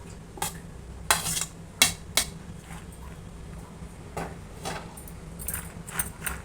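Sprouts salad with apple, onion and coriander being mixed in a bowl, a few sharp clinks and scrapes of a spoon over a soft background hum, close and fairly quiet.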